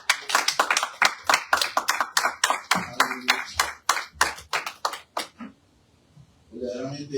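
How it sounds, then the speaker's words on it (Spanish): A church congregation claps loudly in a quick, fairly even rhythm of sharp, close claps, which break off near the end as a voice starts speaking. "den un aplauso fuerte al Señor"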